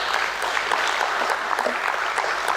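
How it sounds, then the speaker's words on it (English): A crowd at a stock exchange listing ceremony applauds as a company secretary is welcomed to the stage, a steady, fairly loud clatter of many hands throughout. "Let's welcome her with a round of applause."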